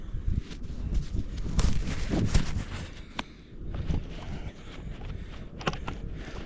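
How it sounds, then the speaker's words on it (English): Outdoor wind buffeting a microphone, heard as uneven low rumbling gusts that swell and fade, with occasional faint knocks and rustles, no talking. "That wind's murder."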